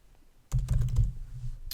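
Quick, close keystrokes clatter on a computer keyboard in a short burst of typing, starting abruptly after a moment of near silence, with no talking.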